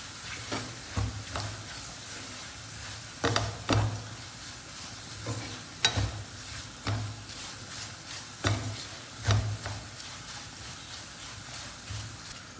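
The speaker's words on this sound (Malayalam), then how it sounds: "നന്നായിട്ട് നമുക്ക് ഇളക്കി യോജിപ്പിച്ചെടുക്കാം" Pepper powder and spices are stirred in a hot pan for a Kerala liver fry: a steady low sizzle with repeated scraping strokes of the spoon against the pan, close and moderately loud, and no one talking.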